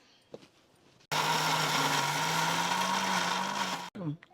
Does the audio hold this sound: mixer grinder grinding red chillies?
yes